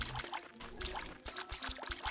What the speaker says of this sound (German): wir gießen alles, was man gießen kann